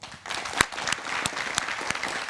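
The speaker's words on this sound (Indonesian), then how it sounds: "Tepuk tangan dulu dong" Applause from the audience of an Indonesian political talk show, a steady patter of many hands clapping throughout, with a few sharper, louder claps standing out.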